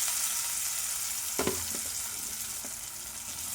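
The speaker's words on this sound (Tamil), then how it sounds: "இன்றைக்கி கருணக்கிழங்கு தான் பொரிச்சிட்ருக்கேன்." Diced elephant foot yam frying in hot oil in a pan, a dense continuous sizzle and crackle close up, with a few brief stirring clanks partway through.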